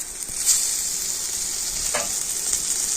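Spices with ginger-garlic paste, Kashmiri chili and coriander powder sizzle steadily in oil for an egg curry, a broad continuous hiss with a couple of faint stirring scrapes.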